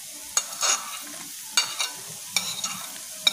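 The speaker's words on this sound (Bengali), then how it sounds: "এগুলো আর একটু ভালো করে আমরা নাড়াচাড়া করে নেব গরম তেলের মধ্যে।" Carrots and beans stirred in hot oil in a pan for a breakfast bread sandwich, with a few distinct scraping stirs and short sizzling bursts over a quiet background.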